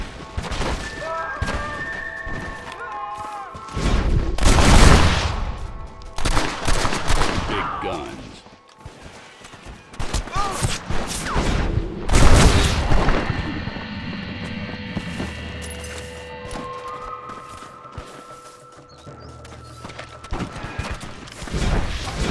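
Pistol shots and other gunfire from the Western video game Red Dead Redemption in the Armadillo setting, heard as loud bursts around five and twelve seconds amid game ambience, with crashes and occasional voices.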